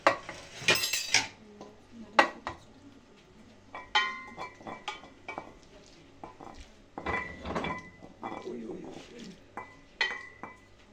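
Utensils scrape and clink against a pot as beans in sauce are stirred, in uneven bursts, with a faint sizzle underneath.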